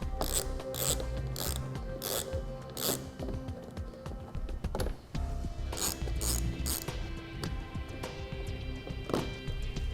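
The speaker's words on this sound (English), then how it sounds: "we need to remove 2 6mm bolts here on each side." A hand ratchet clicks rapidly while removing 6mm bolts underneath a 2015 GMC Terrain, steady bursts of close metallic pawl clicking with brief pauses between strokes, loud and without talk.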